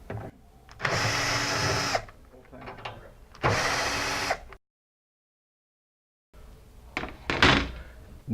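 A driver with a TX20 bit works on the faceplate of an RV power center, two loud whirring bursts about a second long each, then a pause and a shorter rattling burst.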